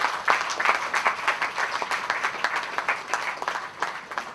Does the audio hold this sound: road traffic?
no